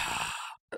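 A voice imitates heavy breathing with one long, close exhale that cuts off, followed by a short second breath.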